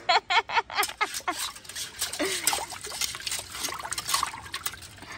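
An animal laps water with its tongue in a series of quick, wet, rhythmic splashes and dribbles, loudest at the start and then softer and continuous.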